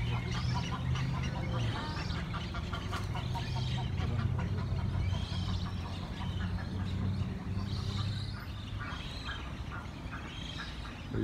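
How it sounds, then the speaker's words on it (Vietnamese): Whistling ducks calling at a garden pond near a nursery in Western Australia, a dense, continuous chorus of repeated whistled calls close by over a low steady outdoor hum. "Còn đây thì mấy vịt le le."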